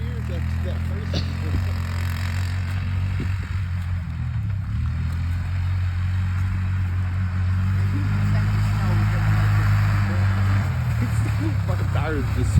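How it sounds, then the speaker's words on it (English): A 1995 Honda Fourtrax 200 ATV stuck in Louisiana snow, its engine droning steadily as the tires spin without grip, a low continuous rumble throughout with people talking over it. "Fucking tires just spinning."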